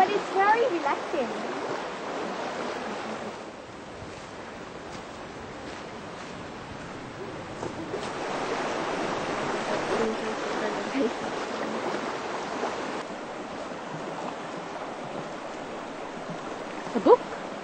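Cold running water of a stream flows steadily as a continuous broadband rush, with a few voices talking over it now and then.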